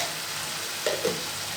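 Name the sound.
stirring turmeric water in a pan with a ladle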